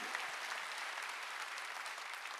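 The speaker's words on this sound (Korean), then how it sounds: "박수치라" Congregation clapping together during a Sunday worship service in a Korean church, a steady dense wash of applause sustained throughout without pause.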